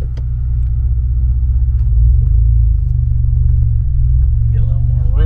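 A vehicle in four-wheel drive crawls over mud and ruts, its engine a steady, loud low rumble that swells slightly midway, with the faint creak and knock of the drivetrain.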